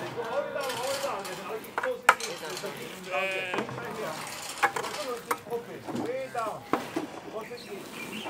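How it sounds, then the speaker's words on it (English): Two black sheep on a farm bleating in quavering calls, moderately close, mixed with clattering knocks and people talking nearby. "There's two black sheep."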